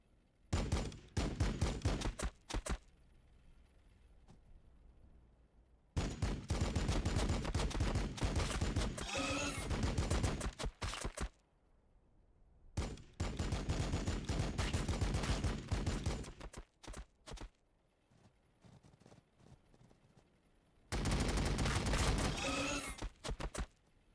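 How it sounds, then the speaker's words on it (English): Bursts of rapid gunfire and heavy weapons fire in the Warhammer Battlesector strategy game, loud and dense, arriving in several long volleys separated by quieter gaps. "Under fire! Taking fire!"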